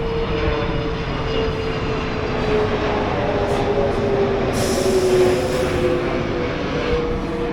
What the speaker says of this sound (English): Literally every 2 minutes a huge plane would fly over. It's so loud.